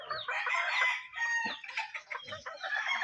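Around sixty laying pullet hens cluck and squawk continuously at close range in a coop, overlapping calls filling the whole stretch with a few brief dips.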